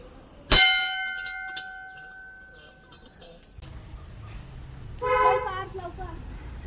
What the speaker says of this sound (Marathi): आपला मंदिर घंटी वाजूया